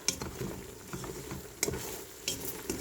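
A thick ginger candy mixture is stirred in a pot, giving quick close scraping strokes over a soft bubbling sizzle, with a few sharper clicks of the spoon.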